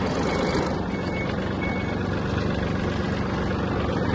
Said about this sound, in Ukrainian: Треба розвернутися, реверс назад і ми вже їдемо назад.